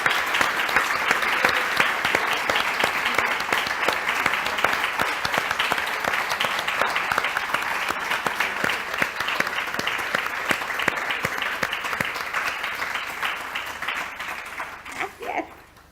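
Audience applause at a feminist conference on the sustainable development agenda, a long, steady wash of many hands clapping that holds for about fifteen seconds before fading out.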